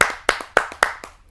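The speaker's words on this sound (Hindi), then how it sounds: "आप सबकी जोरदार तालियों से आमंत्रित करते हैं मास्टर रामजीलाल वर्मा जी को।" Hand claps at a Hindi poetry gathering (kavi sammelan) come in a quick, regular rhythm, each sharp clap followed by a softer one, close and clear with no talking, fading slightly at the end.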